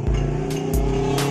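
Motorcycle exhausts rumble close by on a busy Sunday morning group ride, a loud steady engine drone with short bursts of revving layered on top.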